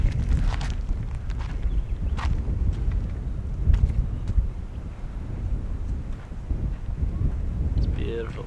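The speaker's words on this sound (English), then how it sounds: "it is extremely windy up here" Strong wind at a lookout at Kata Tjuṯa buffets the microphone in a steady low roar, with brief gusts and some faint background movement throughout.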